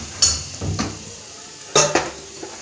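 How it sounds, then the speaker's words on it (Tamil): Ginger garlic paste being sautéed in a pan for coconut milk rice, with a spoon scraping and clanking against the metal a few times over faint sizzling, close by. "நான் வந்து இஞ்சி பூண்டு லைட்டாக அரைச்சி போட்டிருக்கேன், போட்டு நல்லா வதக்கிக்கோங்க."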